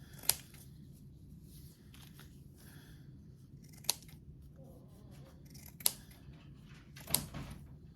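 Scissors trimming blue jeans fabric, four sharp separate snips spaced a few seconds apart, close and crisp over a quiet low background hum.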